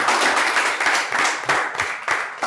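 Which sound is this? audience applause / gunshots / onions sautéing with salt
audience applause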